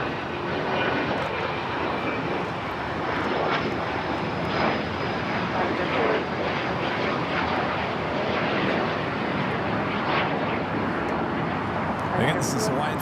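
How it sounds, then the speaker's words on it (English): A Hawaiian Airlines Airbus A330-200 arriving from Honolulu at Los Angeles airport gives a steady, mid-distance engine drone, while a person talks intermittently over it. "this is Hawaiian Flight 10, the A330-200 flight coming in from Honolulu"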